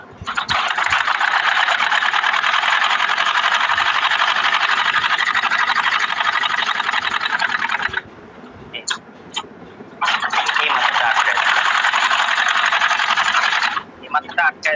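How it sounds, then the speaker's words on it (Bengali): A sewing machine stitches trouser fabric in two long, loud, steady runs of buzzing mechanical whirring, separated by a short pause with faint clicks and handling noise, and ending with a few brief bursts. "সেলাই করে এই পর্যন্ত আটকায় দেবো।"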